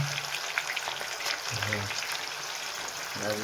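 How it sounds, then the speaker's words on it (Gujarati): Whole onions sizzling in hot oil, a constant crackling fizz throughout, with a voice talking briefly in the background. "ડુંગળી મૂકી છે તળવા"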